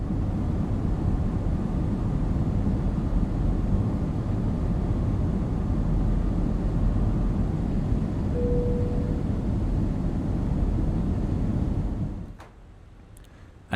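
A steady, loud engine and airflow roar inside an Airbus A320 flight simulator while the flaps extend to position 2, with a brief high tone partway through, before the noise drops away abruptly near the end.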